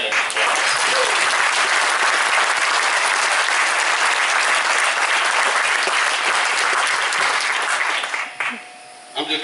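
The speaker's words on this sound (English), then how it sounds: "let's give him a hand of applause" Loud, dense applause from an outdoor crowd at a groundbreaking ceremony, many hands clapping steadily for several seconds before tapering off abruptly near the end.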